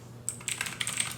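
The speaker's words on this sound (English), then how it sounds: "Oh, did I type that in wrong?" Quick, light keystrokes on a computer keyboard as an SSH command to a Raspberry Pi is entered, a short irregular run of soft clicks close to the microphone in a quiet room.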